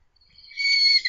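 A person's voice imitates a horse whinny, a short high quavering squeal that swells in and trails off over about a second, heard alone and close.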